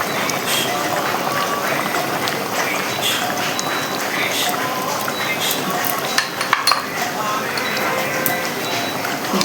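A metal spoon scrapes and clinks against a pan while stirring ghee, continuous light scraping and occasional clinks under steady talking.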